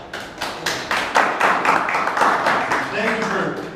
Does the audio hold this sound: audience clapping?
yes